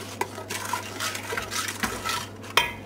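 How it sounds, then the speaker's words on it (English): A spoon stirs flapjack mixture in a pan with the heat turned off, giving steady scraping and clinking against the pan, with a few sharper knocks and one louder clank near the end. "Mix all that in so that that dissolves."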